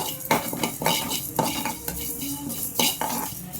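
Fenugreek seeds dry-roasting in a pan while a spoon stirs them, close clinking and scraping strokes with a light rattling sizzle underneath, steady and with no voices.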